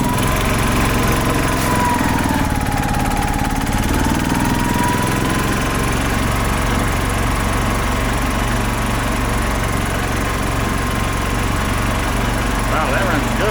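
A 2005 Club Car Precedent gas golf cart engine runs steadily and loudly for the whole stretch, with a high buzzing note and people talking over it.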